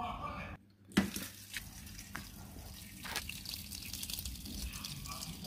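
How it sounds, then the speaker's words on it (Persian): Cold water pouring into a pot of homemade pickles being prepared without vinegar, a steady splashing stream with occasional drips and a brief pause near the start. "الان همون خالی میکنیم تو قابلمه و میریم که کمی آب سرد بریزیم روش"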